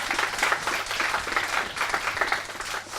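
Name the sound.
applause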